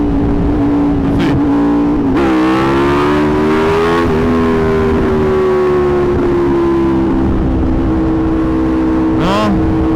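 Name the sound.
Aprilia RSV4 1100 Factory motorcycle revving during wheelie practice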